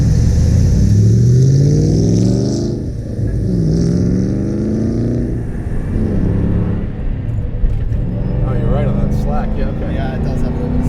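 A supercharged 2003 Mustang Cobra Terminator with a 32-valve 4.6 V8 accelerates, its engine note sweeping upward through the gears with loud, close rumble and supercharger whine. Speech is heard over the engine.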